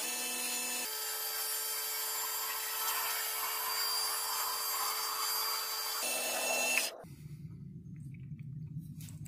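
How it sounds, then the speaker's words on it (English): An amboyna burl pen blank spins on a wood lathe, giving a steady whirring hum with scraping tool contact that shifts midway, then the machine stops and a low quieter hum remains. "Now we can get back to turning."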